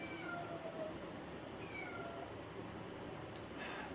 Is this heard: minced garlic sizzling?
no